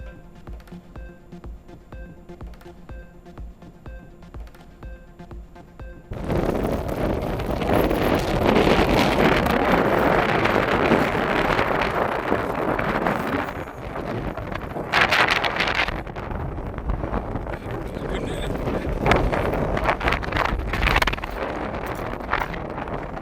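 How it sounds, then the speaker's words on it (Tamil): Strong gale-force wind buffets the microphone with a loud, continuous roaring rumble, gusting unevenly after a quieter opening stretch of about six seconds. "அரை மணி நேரத்திற்கு மேலாக சூறைக்காற்று வீசியதால் வாகன ஓட்டிகள் அவதி"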